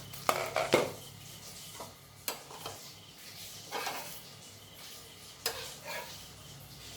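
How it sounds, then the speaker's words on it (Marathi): Metal pan lid lifted off a pan of thin traditional dhirde batter cooking on the stove, a few soft clanks and clinks spaced out over quiet kitchen background, no talking. "हे झाकण काढून घेऊया"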